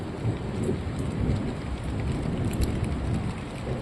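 Steady rain falls during a village thunderstorm with lightning. The downpour is a dense, even hiss with low thunder rumbling beneath it. No voices are heard.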